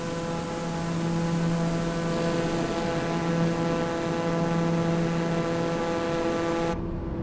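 Steady, loud drone of a TBM 930 single-engine turboprop in Microsoft Flight Simulator, heard from the cockpit near Key West, with strong tonal hum lines and no talk.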